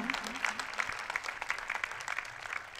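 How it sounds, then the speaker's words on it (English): Applause welcoming Uttarakhand's Education Minister Arvind Pandey at an international yoga festival, a fairly quiet, uneven patter of clapping from a gathered crowd, lasting a few seconds. "let's give him a very big round of applause of welcome"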